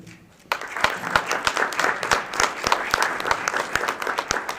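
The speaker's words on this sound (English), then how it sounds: "next round of applause goes for you" A festival closing-ceremony audience breaks into loud applause after a moment of quiet, with dense clapping and some rhythmic claps standing out, continuing steadily.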